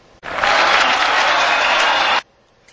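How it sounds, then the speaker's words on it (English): Loud cheering and applause from the Guitar Hero 2 game crowd surges in, holds steady for about two seconds, then stops sharply. "They're still cheering."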